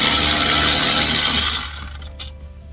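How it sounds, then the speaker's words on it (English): A powered ratchet spins wheel hub nuts off a 2013 Toyota RAV4 with a loud, close, steady whirring that stops abruptly and leaves a few faint metallic rattles. "we're just going to speed up the process using our walkway ratchet just to take them off"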